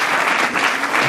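A church congregation at a wedding celebration applauds steadily, a dense, continuous wash of clapping that holds an even level throughout the short burst, with no talk over it.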